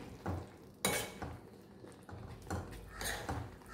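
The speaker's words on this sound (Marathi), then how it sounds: "ह्यावरती मी आता लगेच झाकण ठेवणार आहे" Metal lid set onto a pan of rava upma, a few clanking knocks and clatters of cookware close by, spread over a few seconds with quiet gaps between.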